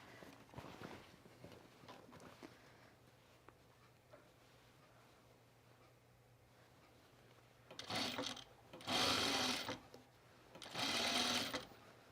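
A sewing machine runs a quarter-inch seam on a pajama top in two or three short, loud bursts near the end, after a stretch of quiet handling noise.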